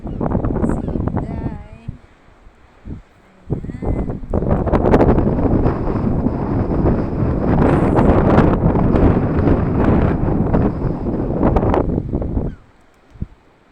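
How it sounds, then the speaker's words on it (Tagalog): Gusty coastal wind at Tintagel, Cornwall, buffeting the microphone, loud roaring bursts that rise and fall, with a few brief quieter gaps. "maganda yung hangin niya kasi malamig-lamig"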